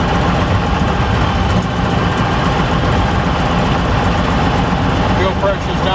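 A Beechcraft Staggerwing aircraft engine idles steadily with a dense, rough, low drone as its RPM settles slightly lower, loud and continuous throughout.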